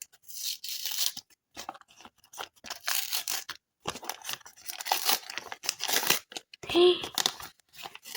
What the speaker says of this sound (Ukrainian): Рвається пакетик.